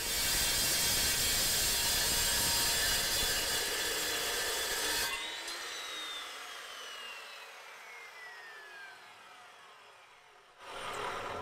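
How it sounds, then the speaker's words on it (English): An Evolution S355CPSL metal chop saw cuts through 2-inch quarter-wall DOM steel tube, a loud continuous grinding roar that holds for about five seconds, then drops to a descending whine as the blade spins down, fading before a brief final burst. "Here's a video cutting some 2-inch quarter wall DOM in real time."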